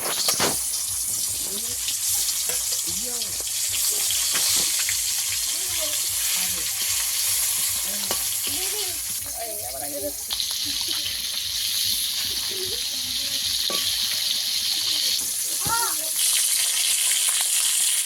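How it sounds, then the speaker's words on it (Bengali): Small Japanese puti fish, freshly caught from a pond, sputter in hot oil with a constant hiss and occasional bubbling, while a spatula clinks and scrapes now and then, close by. "একইভাবে বাকি মাছগুলো ভেজে নেব।"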